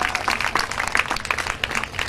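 An audience at a children's poetry recital applauds throughout, a dense patter of many hands clapping at once, steady and moderately loud from start to finish.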